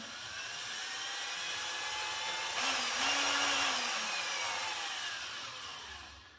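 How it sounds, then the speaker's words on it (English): A power drill whirs steadily, spinning a canvas mounted by a pin tightened in its chuck for spin art; the motor hum stays loud and continuous throughout, swelling slightly in the middle. "we put it in the drill, tighten this chuck down, and we say, let's spin"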